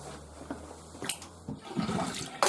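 Water being emptied out from a container after washing puwha leaves, a gushing, gurgling pour with splashy bursts and a louder surge at the end.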